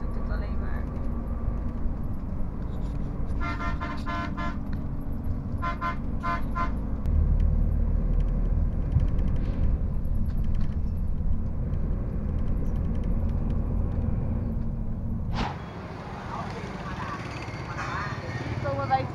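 A sleeper bus drives through southern Vietnam with a steady low engine and road rumble inside, broken by bursts of horn honking from traffic and a sharp jolt near the end, with people talking over it.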